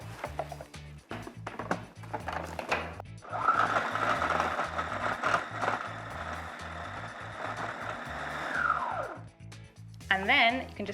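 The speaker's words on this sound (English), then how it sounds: "We just need to tear apart our bread and chuck it in a food processor." A food processor whirs through torn bread to make breadcrumbs, a steady mid-pitched motor grind that swells for several seconds and then stops, with a voice speaking around it.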